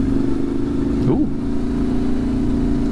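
Adventure touring motorcycle engine droning steadily up close during a power slide on a rural road, with a brief rising whine of revs near the middle of the steady engine noise.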